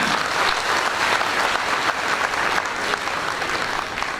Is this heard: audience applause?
yes